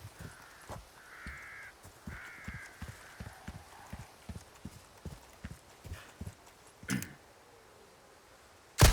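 A horse's hooves clip-clop in a steady rhythm through the Resident Evil 4 Remake village while a crow caws a few times in the middle distance, and then comes one sharp loud crack.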